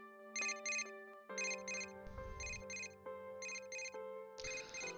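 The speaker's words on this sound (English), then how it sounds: "A familiar ringtone sounds from my cell phone inside my bag." A cell phone ringtone in the video game Persona 4 Dancing All Night plays as a bright, repeating electronic melody in short rhythmic bursts over a sustained synth backing, loud and close, with no talking.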